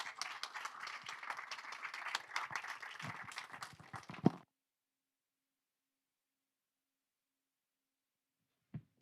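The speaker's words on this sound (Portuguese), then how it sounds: "Um aplauso para a Filipa Simões de Freitas." Audience applause at a WordPress conference in Portugal, a dense patter of many hands for about four seconds that cuts off abruptly, followed by near silence and one faint knock.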